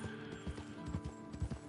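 Horse hooves clip-clopping while riding in the video game Red Dead Online, a quiet, steady gallop rhythm of hoof strikes under a faint game soundtrack, with no talking.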